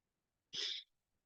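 A single short, sharp sneeze, close and fairly loud, surrounded by near silence.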